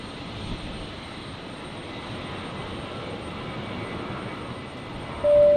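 A Qantas airliner rolls for takeoff on runway 01 right at Brisbane Airport on a stormy night, a steady broad roar of jet engines heard from a distance.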